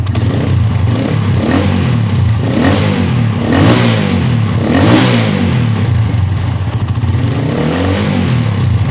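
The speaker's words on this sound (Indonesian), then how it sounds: "Kita geber ada di berapa mentoknya." A motorcycle engine revs up repeatedly in loud, rising bursts over a steady idling rumble, with no talking.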